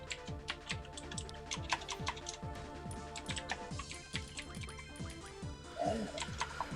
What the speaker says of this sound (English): I love that you have a mechanical keyboard too.